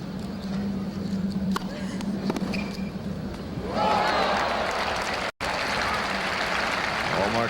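Crowd at the 1986 US Open women's semifinal between Martina Navratilova and Steffi Graf breaks into sustained applause and cheering partway through, swelling over an earlier murmur of stadium noise while a commentator talks.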